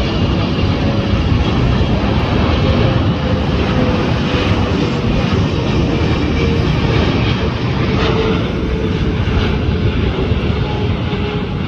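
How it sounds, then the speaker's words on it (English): A China Airlines Boeing 777-300 jet passes an LAX hotel, producing a loud, continuous broadband engine roar that holds steady throughout, with no talking. "The third Taipei flight, China Airlines, 777-300."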